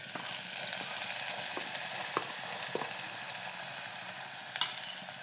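Ground dried coconut is sautéed in a pan with a steady, moderate sizzle and a few sharp spatula clicks scattered through it, heard close with no voices.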